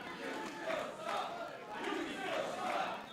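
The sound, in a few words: wrestling crowd jeering MJF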